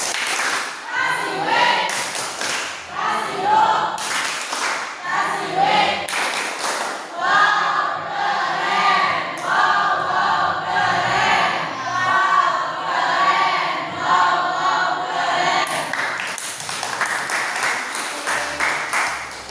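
A group claps along in a rhythmic pattern, mixed with voices and chanting throughout, fairly close and steady.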